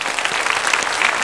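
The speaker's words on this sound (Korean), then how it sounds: "새가족을 박수로 환영하겠습니다." A church congregation claps during a Sunday worship service to welcome new members, a dense, loud burst of applause that is steady and close, heard on its own.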